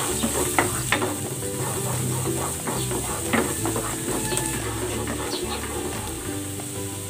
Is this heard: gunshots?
no